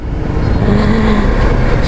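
Fortress 400 big bike motorcycle being ridden, with a steady, close engine drone and a brief rise in pitch as it pulls along; no speech.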